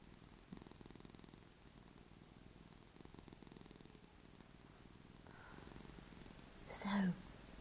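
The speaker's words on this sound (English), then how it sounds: "So, we've all got to be a bit quiet today because the cat's asleep, Noah, on Rach's lap." A sleeping cat purrs softly on a person's lap indoors, a faint steady rumble running through most of the stretch, with a brief louder rustle near the end.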